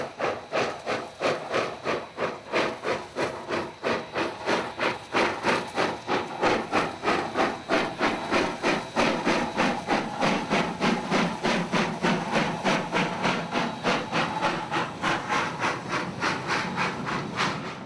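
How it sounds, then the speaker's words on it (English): NZR WW644 steam locomotive hauling a goods train up a steep grade, steady rhythmic chuffing exhaust beats at a labouring pace, close and continuous with a hissing undertone. "WW644 and its typical NZR goods train on the steep grade of the new track extension from Blacksbridge to Fernley."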